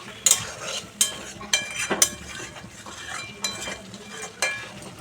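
Chicken and capsicum curry frying in a pan with a little water, stirred so a utensil scrapes and clinks against the metal at irregular intervals over a low sizzle; no voices.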